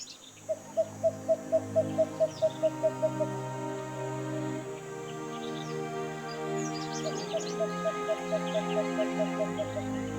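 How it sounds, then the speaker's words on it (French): A dense chorus of birds sings at dawn in Madagascar's dry forest, with a repeated rhythmic call near the start and again later, layered over sustained whistles and tones and scattered higher chirps. "C'est l'heure de la symphonie des oiseaux."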